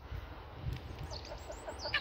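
Soft clucking from a few chickens, fairly quiet against a low rumble of background noise.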